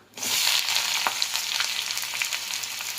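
Chopped onions hit hot oil in a pan where cinnamon and cloves have already crackled, raising a loud, steady broadband sizzle that holds for three seconds with brief sharper pops and spatters, no voices.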